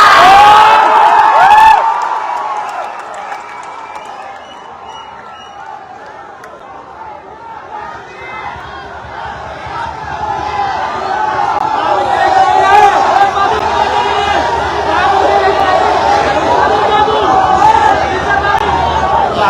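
A large crowd celebrating an election win on a campus, with loud, continuous cheering and chatter that swells in the second half, close and dense.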